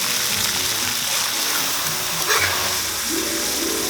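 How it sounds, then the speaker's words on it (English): Insects frying in hot oil at a Mekong Delta market stall, a steady dense sizzle and crackle filling the foreground with faint background murmur and clatter. "These get tossed in hot oil until they're crispy"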